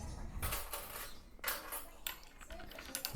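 Sauce laced with Worcestershire sauce is stirred in a small dish, giving a run of close, bright clinks and scrapes of a utensil against the bowl, a few sharper taps standing out.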